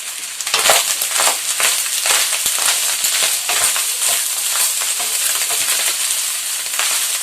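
Steady dense crackling sizzle of Nigerian fried rice frying in a hot pan, with scraping stir sounds throughout, close and loud.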